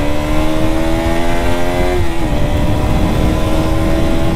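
A 2022 KTM RC 200 BS6 sport motorcycle engine roars loudly at full throttle in fourth gear, pitch climbing steadily, briefly dipping as it shifts, then pulling hard again without pause.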